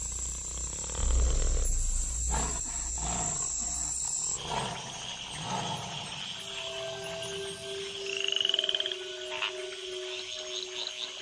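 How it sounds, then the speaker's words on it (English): A dense chorus of tree frogs croaking and roaring overlaps continuously after rain, with low rumbling pulses and higher piping tones, fairly loud and close. "In the wake of the rains, the tree frogs gather for bouts of communal coupling."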